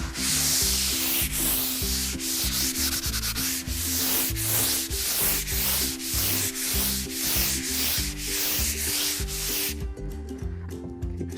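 Sandpaper worked by hand across an interior wall surface, a loud, close, continuous gritty scrubbing with a regular back-and-forth rhythm that stops near the end.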